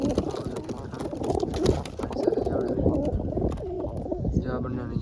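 Pet pigeons in a home loft setup coo repeatedly and steadily, close and fairly loud, with someone talking over them throughout.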